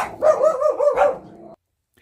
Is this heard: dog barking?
yes